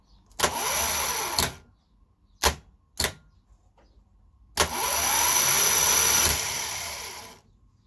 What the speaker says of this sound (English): So that's how you bench test your starter motor.